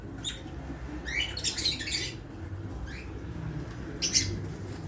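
A green opaline pet bird gives a few short, bright chirps in bursts, fairly close, over a low background hum.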